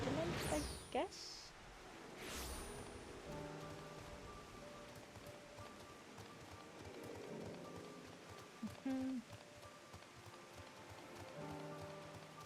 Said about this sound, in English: Man, it's really raining down really hard.